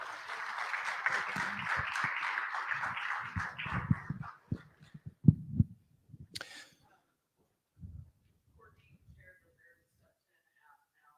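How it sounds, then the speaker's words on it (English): A church audience gives a round of applause, dense and steady clapping for about four seconds before thinning into a few scattered claps and falling quiet. "Give Spencer another round of applause"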